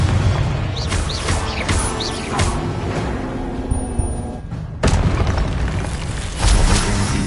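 Explosions from the Confringo spell in Hogwarts Legacy: dense, continuous booming and crashing with a sharp loud blast partway through, set against busy game noise, with no talk.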